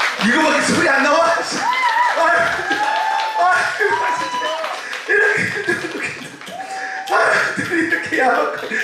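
An audience at an outdoor gakseori show on Kkotji Beach, Anmyeondo, claps rhythmically throughout. Loud speaking and sing-song voices ride on top of the claps, along with scattered whoops and laughter.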